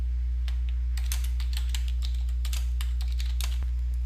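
Rapid, irregular clicking of keys on a computer keyboard as someone types, close and clear over a constant low electrical hum, with no voices.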